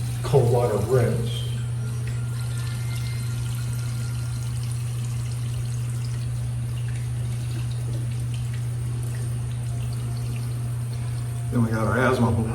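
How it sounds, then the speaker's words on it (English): Cold tap water runs in a steady, even stream for a straight razor shave rinse, with a low hum underneath and brief voices at the very start and end. "Do a cold water rinse."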